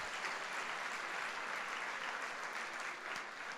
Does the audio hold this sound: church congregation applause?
yes